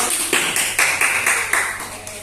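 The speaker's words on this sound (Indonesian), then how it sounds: "Keren ya, tepuk tangan dulu dong" A few people in a podcast studio clap together in a steady beat, about eight crisp, evenly spaced claps, close and fairly loud.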